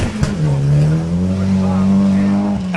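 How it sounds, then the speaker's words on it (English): A Mitsubishi Evo 1 rally car at a forest rally sprint passes close and loud, its engine note holding a steady, slightly rising drone for a couple of seconds before cutting off sharply. "regularly comes to Canterbury to drive in rallies in this Evo 1, which he shares along with Sheldon Bell"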